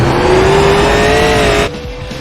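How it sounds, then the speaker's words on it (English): Race car engine in the iRacing sim, a loud sustained drone with a slowly rising then falling pitch, dropping in level near the end. "listen to that engine sound, man"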